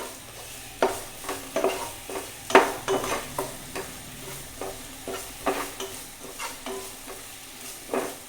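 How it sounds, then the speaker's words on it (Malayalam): Okra thoran ingredients with chopped okra, onion, coconut and turmeric powder are stirred in a pan, giving a steady sizzle broken by repeated sharp scraping knocks of the spoon against the pan, close and fairly loud, with no talking. "എന്നിട്ട് ശരിക്ക് മിക്സ് ചെയ്യും."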